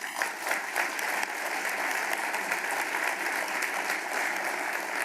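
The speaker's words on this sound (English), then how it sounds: "Please give a round of applause to show our gratitude to Airbus for hosting us" An audience at an aircraft delivery ceremony applauds, with dense, steady clapping from many hands that holds at an even level throughout.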